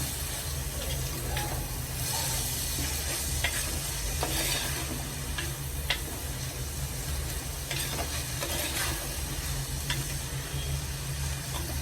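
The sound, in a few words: dried anchovies frying in a pan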